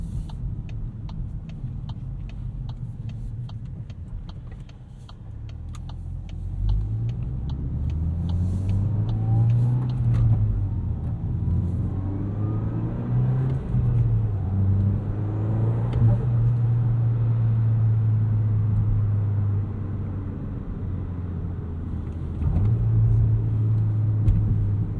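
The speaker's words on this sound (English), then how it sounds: "No auto rev matching in this Golf R. You got to do everything yourself." A 2024 Volkswagen Golf R MK8 with a six-speed manual drives at night, its engine a steady close rumble that rises and falls through gear changes and revs, with no talking.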